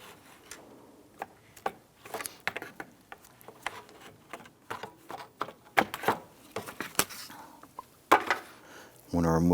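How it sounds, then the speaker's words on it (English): Needle nose pliers squeeze and click the plastic retainer tabs on the connector of a 1992-1996 Toyota Camry 2.2L I4 engine cooling fan assembly, giving scattered sharp clicks and metallic taps, fairly close, with a louder clatter at the very end. "we're going to use our needle nose pliers, pinch the tabs and push those through"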